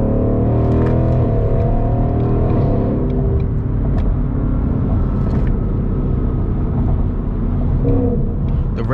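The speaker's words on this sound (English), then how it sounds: "The rev matching downshifts are like so good, bro." Ford Mustang GT engine droning loudly and steadily from inside the car, a constant low rumble with slight rises in revs, no talking over it.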